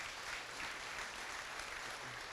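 An audience at a conference applauds, a dense, even wash of clapping that holds steady throughout at moderate loudness with no talk over it.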